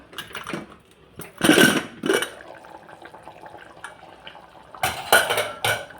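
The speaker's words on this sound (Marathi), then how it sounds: "आता आपण कुकर उघडून बघू" A pressure cooker holding cooked brinjal is opened, with metal lid and pot clanks and knocks in bursts, separated by quieter stretches of faint liquid and utensil handling.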